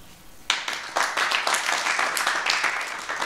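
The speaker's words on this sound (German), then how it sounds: "Den Beifall, meine Damen und Herren" Audience applause erupts in a theatre during a stage performance of a Dürrenmatt play, a sudden burst of many hands clapping in dense, sustained waves that stay loud throughout.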